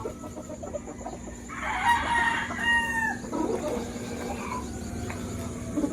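Rooster crowing and hens clucking at a chicken farm, a loud crow rising mid-clip over steady clucking and farmyard background.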